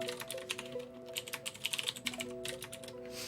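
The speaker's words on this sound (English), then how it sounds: "I'm going to go ahead and type in my password." Someone types a password on a computer keyboard while setting up Openmediavault 5 on a PC, producing a quick, uneven run of close key clicks over a steady low hum, with no voices.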